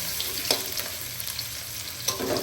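Garlic and onion sizzle steadily in a hot pan for a creamy spaghetti, a continuous close frying hiss with a couple of brief stirring scrapes.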